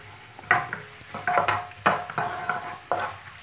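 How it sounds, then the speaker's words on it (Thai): Minced garlic sizzles in hot oil in a wok, punctuated by rhythmic scraping of a spatula stirring every half second or so. "เราก็ตั้งกระทะนะคะใส่น้ำมันไปนิดหน่อยค่ะแล้วก็ตามด้วยกระเทียมสับนะคะ"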